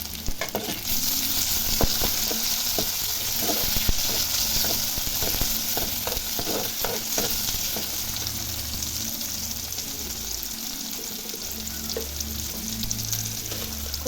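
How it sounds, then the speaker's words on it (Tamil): Garlic and onion sauté in an oiled pan for a dried fish curry, giving a steady close sizzle broken by frequent scraping clicks of a stirring spoon, and no voices. "பூண்டு கொஞ்சம் நேரம் 2 நிமிஷம் வதக்கிட்டு தக்காளி சேர்த்துக்கலாம்."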